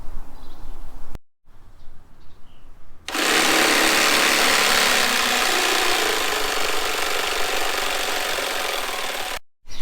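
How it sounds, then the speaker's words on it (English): A jigsaw cutting a wooden board for a van bed build starts after brief handling sounds and runs as a loud, steady buzzing rasp for several seconds before stopping abruptly. "Then I'm going to jigsaw it out."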